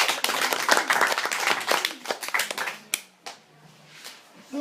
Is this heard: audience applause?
yes